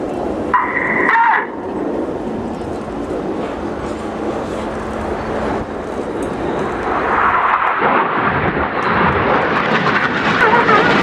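Royal Air Force aerobatic display jets roar overhead at the Royal International Air Tattoo, a loud continuous rushing engine noise that swells and shifts as the aircraft pass, with brief public-address talk over it.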